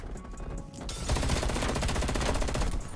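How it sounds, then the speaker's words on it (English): Rapid automatic gunfire in Call of Duty Black Ops Cold War, a dense, sustained burst of shots that kicks in after a brief quieter start and stays loud to the end. "That was a weird gunfight."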